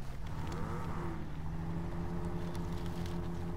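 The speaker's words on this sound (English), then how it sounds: "you can hear the engine noises are a little bit fruitier than they normally let us have" A Jeep Wrangler engine in the SnowRunner game hums steadily at moderate revs, a low droning tone with a rising pitch, heard alone and fairly quiet.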